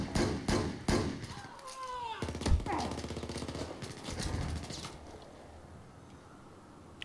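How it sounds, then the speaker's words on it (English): Gunfire in Battlefield 4, a burst of sharp shots and automatic fire up close, then a rapid rattling volley that fades into quieter background sound. "I don't even know where the shots were coming from"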